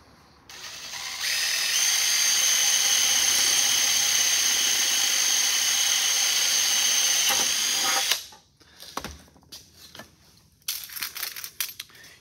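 A hand drill bores through thin sheet metal for a rivet while a tool tray is built, giving a loud, steady high-pitched whine for about seven seconds before cutting out, followed by scattered clicks and metallic handling noises.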